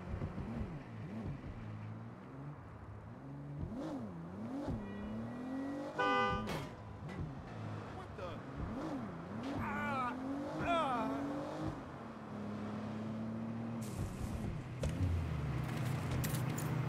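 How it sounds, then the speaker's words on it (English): Police car engine in the Saints Row video game, revving and shifting with rising and falling pitch, loud and near, with game effects and dialogue voices mixed in. "I see the cop car with one of the targets."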